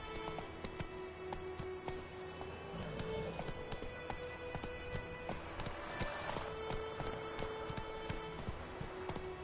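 Hoofbeats of Roach, a horse galloping in a video game, keep up a steady clip-clop rhythm throughout, set against game ambience.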